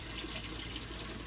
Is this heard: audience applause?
no